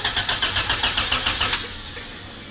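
A B18C1 turbocharged EJ1 Civic cranking on the key with no fuel reaching the engine, a rapid even starter chug repeating for about a second and a half before fading out without catching.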